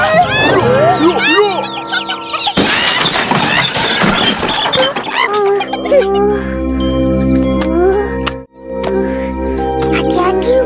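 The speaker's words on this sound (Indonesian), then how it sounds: "Hal pula Isan, ayam tu bising-bising?" Animated cartoon chickens cluck and squawk nearby, with a burst of rustling commotion and other voices and chiming sounds mixed in.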